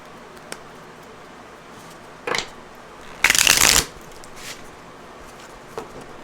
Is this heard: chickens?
no